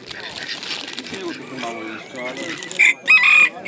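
A rooster crows loudly nearby at an animal market, its high drawn-out calls standing out over busy market chatter and the clucking of ducks, turkeys and other fowl.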